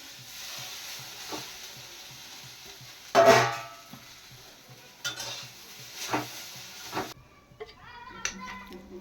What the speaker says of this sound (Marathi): आज गरम कढाईमध्ये ही जी भेंडी होती ती आपल्याला आधी फ्राय करून घ्यायची आहे.